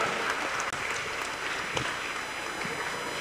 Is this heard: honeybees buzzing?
no